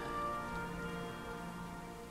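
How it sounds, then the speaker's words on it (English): Steady rain from the video game Dwarf Fortress, a soft continuous hiss of falling water with faint drops, even and unbroken, alone with no voices. "And God, it's raining again."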